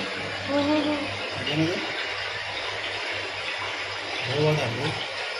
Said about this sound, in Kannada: ಏನು ನೀರು ಸೌಂಡು?